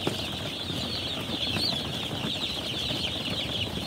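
Newly hatched chicks on a farm peep in a constant high, dense chorus as they crowd close, the chirping steady and near with no talk.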